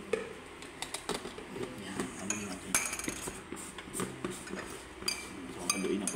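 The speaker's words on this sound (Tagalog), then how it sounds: "Asan yung kutsara natin? Tinakoy dito. Haluin natin" A metal spoon stirring black coffee in a cup, giving scattered light clinks and taps against the sides, close but quiet, with soft voices and household noise around it.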